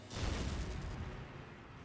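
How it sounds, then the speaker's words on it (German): A grenade goes off in the video game Valkyria Chronicles, a single loud, broad blast that rolls and slowly fades into a rumbling tail with no talk over it. "Und dann hielt ich da zu dem Schocktrooper einfach meine Granate rüber."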